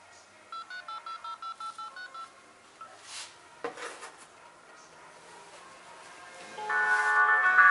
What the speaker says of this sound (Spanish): Va a ser una llamada de prueba de un teléfono.